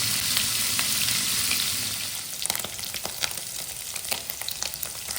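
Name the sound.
paneer frying in oil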